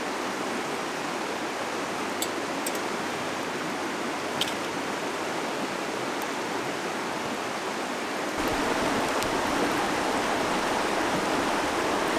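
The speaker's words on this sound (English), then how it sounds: "this river is getting like bigger and bigger" A swollen river rising at a camping spot flows with a steady, full broadband rush of water that stays constant throughout and grows slightly louder near the end, with no voices.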